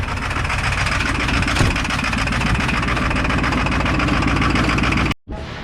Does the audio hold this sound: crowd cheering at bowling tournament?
no